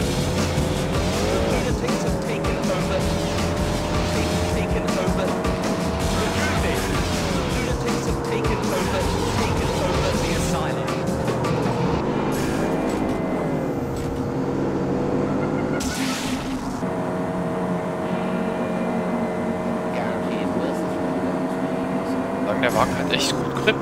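Car driving in the video game Street Racing Syndicate, a sustained engine whine rising and falling through gear changes with tire squeals, loud and continuous, while someone talks over it.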